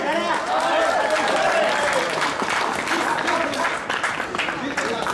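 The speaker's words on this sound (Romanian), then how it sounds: "aplaudați pentru ei!" Audience clapping after a pull-up record attempt, dense sustained applause that starts loud and holds steady, with a voice talking over it.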